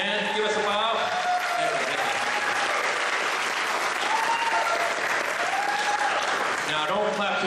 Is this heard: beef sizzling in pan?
no